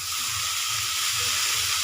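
Drumstick (moringa) flowers frying in a pan, giving a steady, close sizzle and hiss of hot oil throughout, with faint stirring underneath and no talk.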